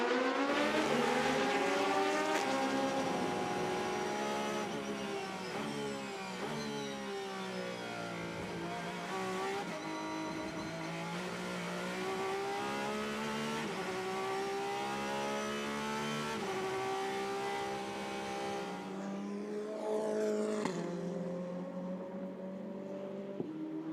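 Porsche race car at the 2019 24 Hours of Le Mans, its engine howling continuously with rising and falling revs through gear changes, loud and steady before tapering off near the end.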